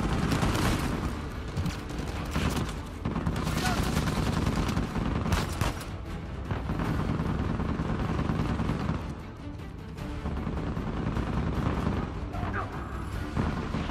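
Dense gunfire in the Uncharted 4 video game, a continuous loud barrage of rapid shots and bursts with crashes and impacts running the whole stretch.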